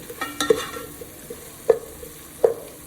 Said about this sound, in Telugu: ఇప్పుడు దీంట్లో మనం ఫ్రెష్గా దంచి పెట్టుకున్న అల్లం వెల్లుల్లి ముద్ద కూడా వేసుకొని బాగా ఫ్రై చేసుకుందాం